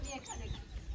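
A black hen clucks at a farmhouse, a few short, muffled clucks close by, mixed with background noise and faint voices.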